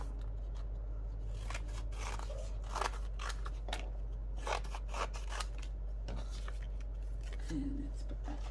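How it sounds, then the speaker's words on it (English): Scissors snip through paper as an autumn tag is cut out by hand, giving a string of close, crisp cuts and rustles while a person talks over them. "So now let's cut this out"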